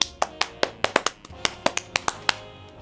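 A single person claps hands about a dozen times at an uneven, quick pace, each clap crisp and close, with no one talking.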